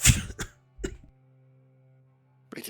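A voice coughs and clears his throat during a grimdark tabletop role-playing game session, two or three short harsh bursts close to the microphone, with a low steady hum between them.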